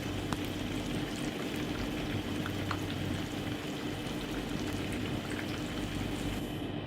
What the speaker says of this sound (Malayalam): എനിക്ക് ഈ ഒരു മീഡിയം ഫ്ലെയിമിൽ വെച്ചിട്ട് നമുക്കിതൊന്ന് തിരിച്ച് മറിച്ചിട്ടിട്ട് നന്നായിട്ട് ഫ്രൈ ആക്കി എടുക്കാം